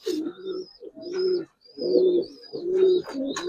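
Big Giribaz and coloured pigeons at a pigeon market give close, throaty rolling coos in four or five distinct bursts separated by short pauses, with faint high thin chirps between them.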